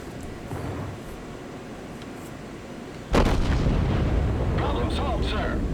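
A naval battle video game with Colorado-class battleships exchanging fire, distant booms at first, then a sudden loud cannon blast followed by heavy rumbling and crackling.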